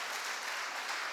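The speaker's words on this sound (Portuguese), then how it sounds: "dê um forte aplauso ao Senhor" A church congregation claps in a dense, steady burst of applause during a worship service, heard at a moderate distance with no other sounds standing out.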